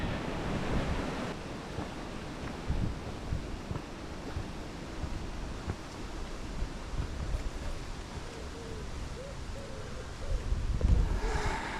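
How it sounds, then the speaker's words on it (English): Steady wind gusting and buffeting the microphone during a rainy countryside walk in Kent, a continuous roar that swells louder near the end, with no talking. "Now we've got wind"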